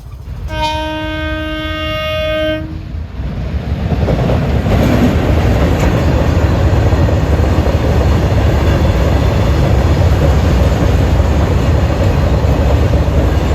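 A train horn sounds in a long steady blast from a railway level crossing, then gives way to the loud continuous rumble and clatter of the train passing close by on a rainy day, with no talking.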